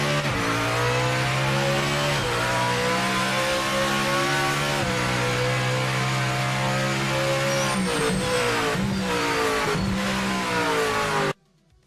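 GT3 race car engine in Project Motor Racing, loud and close, revving hard through repeated upshifts with rising pitch sweeps and short dips between gears, then cutting off abruptly at the end with no talk.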